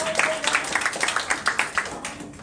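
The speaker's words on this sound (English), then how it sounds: "Give a round of applause." Small audience at an investment gathering clapping, a brief quick run of close handclaps in an uneven rhythm that thins out, with a faint voice early on.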